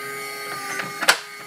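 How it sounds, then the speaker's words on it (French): A SwitchBot Lock Pro smart lock unlocking from about 30 cm away, a soft steady motor whir under several faint mechanical clicks, ending in a brighter click as the key turns. "on entend surtout la clé qui tourne. Mais le moteur n'est pas très bruyant."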